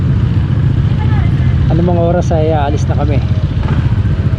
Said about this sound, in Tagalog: papainit na kami ng aming mga motor